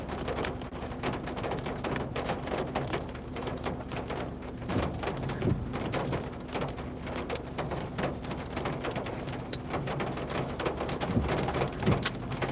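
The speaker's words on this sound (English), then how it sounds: "Rain sounds good." Rain falls steadily outdoors during a storm chase, a moderate patter with scattered louder drops and a faint steady hum underneath.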